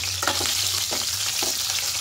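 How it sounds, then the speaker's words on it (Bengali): Duck eggs sizzle in hot oil with a continuous crackling hiss, punctuated by a few soft scraping stirs. "ডিমগুলো হালকা লাল করে ভাজা হয়ে গেছে, এর থেকে বেশি ভাজবো না।"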